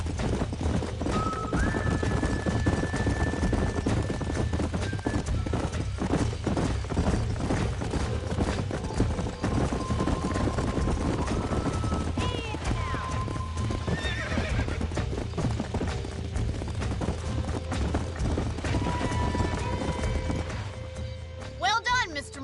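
Horse hooves clip-clopping in a Western video game, a steady rhythmic trot running throughout with occasional whinnies and neighs, heard beneath game music and character dialogue.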